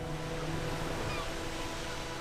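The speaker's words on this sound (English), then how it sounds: "Atlantic waves crash against magnificent cliffs." Atlantic waves breaking against tall sea cliffs make a steady, dense roar of surf and wash, continuous and fairly distant with no distinct individual crashes.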